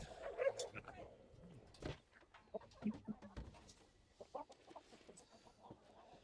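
Chicken clucks come in short bursts through a busy outdoor scene, mixed with people talking and other bird calls, fairly faint and partly masked.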